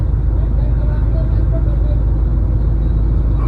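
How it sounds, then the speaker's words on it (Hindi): A car engine hums low and steady as the vehicle is moved forward, with road rumble throughout and people talking under it. "ऐसे हटाया जाता है और उसके बाद गाड़ी को आगे लाया जाता है।"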